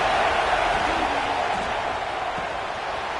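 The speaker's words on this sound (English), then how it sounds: "This crowd ready to make its presence known." A stadium crowd at a UCLA football game gives off a steady, diffuse roar that fills the space evenly and eases slightly toward the end.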